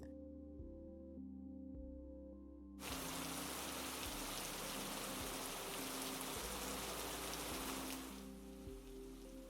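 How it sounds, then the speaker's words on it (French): Heavy rain pours down steadily across the whole scene, a dense hiss of drops on surfaces, with a quieter patch at the start before the downpour surges in, nearby and loud. "Il pleut beaucoup."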